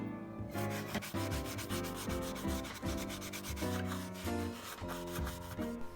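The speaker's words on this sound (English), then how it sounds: "Now that everything's prepped, it's time to start sanding." Sanding by hand on a vintage 1970s Sears unicycle covered in dirt and surface rust, heard as quick rhythmic back-and-forth rasping strokes, close and steady, with no voices.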